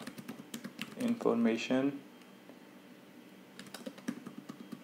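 Typing on a computer keyboard during a NiFi software lesson, with quick irregular key clicks at the start and again near the end, and someone talking briefly over the middle.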